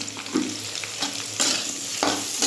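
Cumin seeds hit hot oil in a pan where potatoes have already been fried, giving a steady close sizzle with a few sharper stirring scrapes and crackles, no voices.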